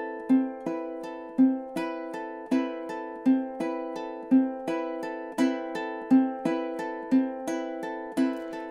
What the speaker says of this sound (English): it's a fingerpicking pattern